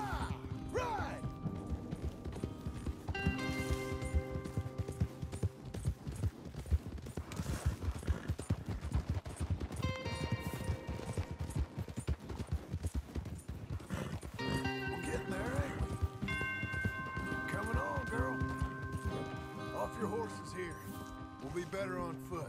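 A horse gallops in Red Dead Redemption 2, with quick rhythmic hoofbeats and an occasional whinny under game music, while characters talk over the ride.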